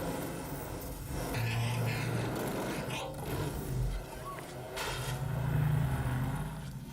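A 1953 Chevy in a movie scene roars and revs hard while being wrecked, loud engine surges broken by scraping and crunching bursts over about seven seconds.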